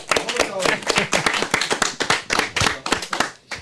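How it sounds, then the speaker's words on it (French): An audience at an evening event claps for a woman named Carole, with sharp, distinct claps from a modest group close by and talk mixed in. "On applaudit Carole."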